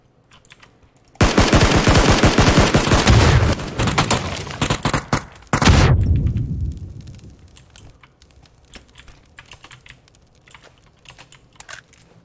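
PUBG automatic gunfire, a long, loud, rapid burst of shots followed by a second, shorter volley, then scattered keyboard clicks and faint game noise as it dies away.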